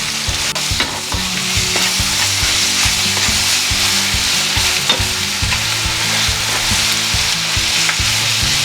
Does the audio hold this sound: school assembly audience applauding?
no